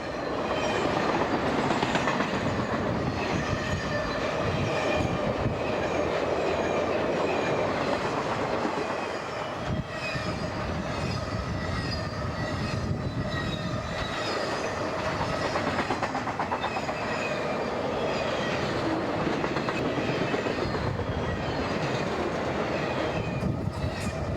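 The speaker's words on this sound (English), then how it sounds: "A rush of wind hits you as the engine passes by." A train rumbles past close by, wheels clattering and metal squealing in a loud, continuous roar that holds steady for the whole stretch.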